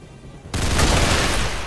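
Burst of rapid gunfire erupts in the video game XCOM 2 after a quiet moment, a loud, dense fusillade of overlapping shots that continues to the end.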